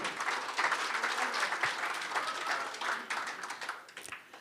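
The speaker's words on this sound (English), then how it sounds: "Give them a round of applause" A crowd at an awards evening for an AGM claps steadily as recipients come forward, with dense, even applause that holds throughout.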